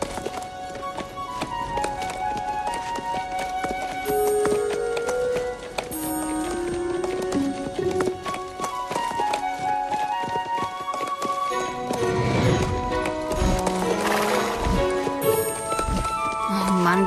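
Horses trot along a road, giving a steady run of hoof clip-clops under music and talk, with the hoofbeats growing louder and busier near the end.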